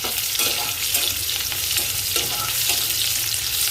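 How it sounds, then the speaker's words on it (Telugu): Onions fry in a pan with a constant bright sizzle, broken by repeated stirring scrapes at an irregular pace, close and steady throughout with no voices. "చూడండి ఉల్లిపాయ అయితే బాగా వేగుతుంది"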